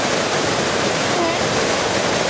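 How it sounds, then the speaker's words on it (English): The waterfall at High Falls Gorge gives a steady, dense roar of rushing water that stays loud and even throughout, with no break or change. "if you look upriver, you can see a better view of the waterfall"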